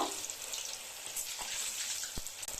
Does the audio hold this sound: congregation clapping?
no